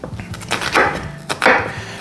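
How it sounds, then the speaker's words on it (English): A sharp knife chops down through an onion on a cutting board, giving a few crisp close cuts and knocks in an uneven rhythm. "cut down the center of the onion."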